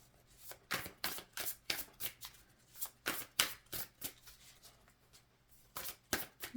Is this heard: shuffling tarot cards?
yes